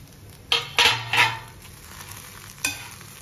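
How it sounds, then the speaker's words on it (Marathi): A spoon stirs diced potato into sabudana khichdi in a pan, giving a few distinct scraping, stirring strokes in a quick cluster and then one more later, close up over a faint background hiss with no talking. "मी हा मिक्स करून घेते बटाटा"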